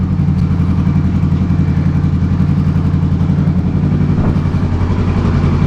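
A motorcycle engine runs loud and close after being ridden up into a pickup truck bed. It gives a steady, throbbing, mechanical drone with a slight lift in throttle, and there is no speech.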